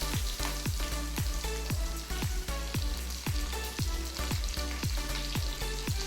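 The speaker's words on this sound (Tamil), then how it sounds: "இதே பச்சை மிளகாவும் ஆட் பண்ணிக்கோங்க. நல்லா வதங்கட்டும்." Green chillies and onions frying for a paneer stuffing, a steady close sizzle with rapid rhythmic ticks and scrapes of a spatula stirring through the pan, with no voices.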